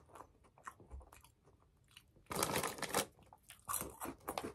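Crunchy bites and chewing of cheese and ham toastie flavour crisps, close and loud, with a quieter stretch of soft chewing before two bursts of sharp crunching.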